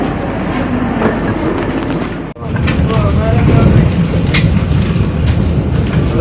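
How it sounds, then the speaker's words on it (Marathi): A Vande Bharat train running, a loud rolling rumble with rhythmic rail clatter and wind, a brief dropout mid-way, then the steady roar resumes. "आता आम्ही चढू ट्रेनमध्ये."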